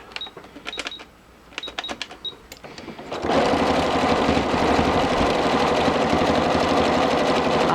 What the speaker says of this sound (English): I'm going to do a decorative stitch.